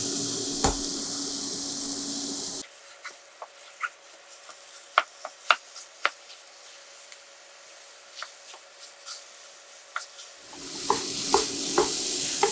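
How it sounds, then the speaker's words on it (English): Breakfast sausage from a tube sizzles in a pan for dirty rice, a hissing fry at the start that drops away to scattered clicks and scrapes, then swells back into steady sizzling. "Breakfast sausage going in."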